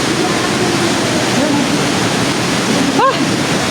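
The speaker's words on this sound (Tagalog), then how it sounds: "May naririnig tayong agos ng tubig" Water rushes steadily inside a cave, a broad continuous hiss of flowing current, with a faint voice and a brief chirp near the end.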